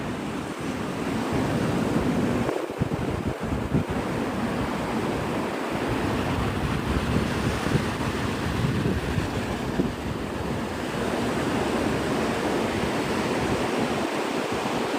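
Surf and wind fill the air on an empty, clean stretch of Navarre Beach in Florida, with steady waves washing ashore and gusts buffeting the microphone throughout.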